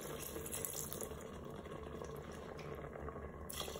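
Water poured from a measure into a Cookeo multicooker pot, a steady continuous splashing stream for several seconds, close and fairly quiet, with no talking.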